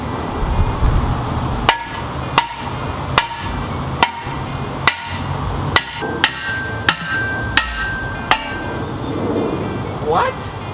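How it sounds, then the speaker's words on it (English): A hammer strikes a car wheel on a Nissan S14 240SX, fitted with Blitz 03 wheels, in about a dozen sharp, loud metallic whacks at an uneven rhythm, close by, before a brief squeak at the end. "Give her a quick slap with this hammer."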